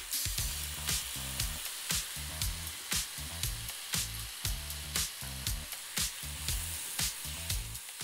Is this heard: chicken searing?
yes